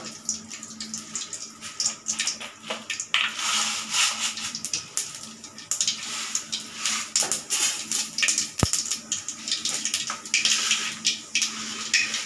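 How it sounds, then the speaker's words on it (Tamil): Mustard seeds crackle and sizzle in hot oil in a pan while cucumber poriyal is being made, a steady crisp spattering that rises and falls throughout with a few sharper pops, no one speaking. "கடுகு கொஞ்சம் போடுறோம்."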